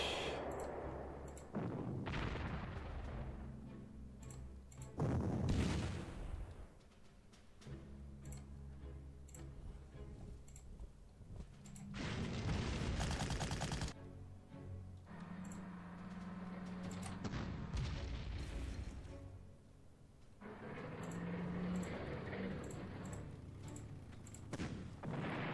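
Artillery fire in the WWII strategy game Panzer Corps during a 1941 campaign battle, heard as a series of heavy booms and thuds rising and falling over game ambience for the whole stretch.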